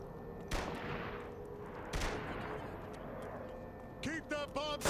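Gunfire in Saints Row 3 Remastered during a fight with the military: two sharp shots stand out over a dense, steady din of battle, followed by a quick burst of rapid shots near the end, with voices underneath.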